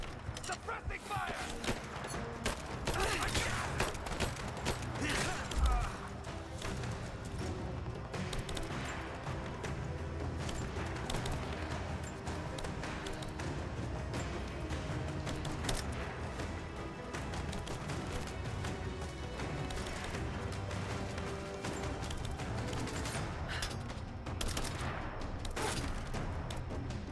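Suppressing gunfire in the PS4 game Rise of the Tomb Raider, a dense, steady stream of shots and mechanical clatter lasting the whole stretch at an even, loud level amid game noise.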